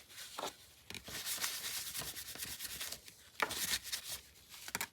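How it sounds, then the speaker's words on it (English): Close, dry rubbing and scraping of paper card edges being trimmed with a scissor or blade, in irregular strokes with brief pauses, no speech. "And I'll just trim it wherever it hangs over."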